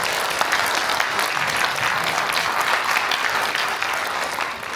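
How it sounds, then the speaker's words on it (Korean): An audience at a property appraisal briefing session gives a sustained round of applause welcoming a speaker, dense steady clapping that fades slightly at the end. "큰 박수로 맞이해 주시면 감사하겠습니다"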